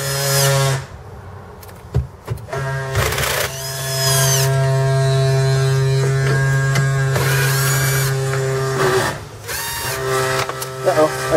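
An electric nut driver with a magnetic tip whirs in bursts while removing screws from a Ford F150 Raptor center console, loud and close, with an electrical hum running throughout.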